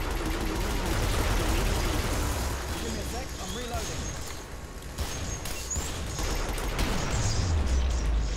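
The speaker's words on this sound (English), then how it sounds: "I love how quickly you can shoot a fucking revolver in this." Rapid revolver fire in the video game Killing Floor: dense, overlapping cracks of gunfire mixed with game noise, loud and continuous throughout, with a brief dip partway through.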